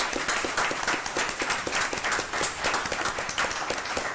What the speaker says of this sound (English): I want to give our teachers, all of our teachers, a round of applause and show them some love.